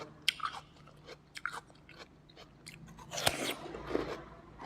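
Crisp, sweet, chilled snow lotus being chewed up close, with soft crunching bites and moist chewing in an uneven rhythm.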